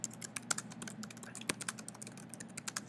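Quick, uneven keystrokes type a blog title on a computer keyboard, with soft, close clicks and a few louder taps over three seconds and no voices.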